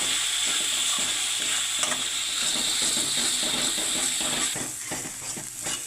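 Chili powder fries in a pan of tamarind curry, a continuous close sizzle with rhythmic scraping and clicking of a spoon stirring against the pan bottom, loud and steady with no talk.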